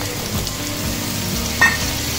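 Boiled mutton sizzles and fries in a pan with sautéed onions and dried chillies, a steady close hiss and crackle with a light stirring sound partway through and no talking.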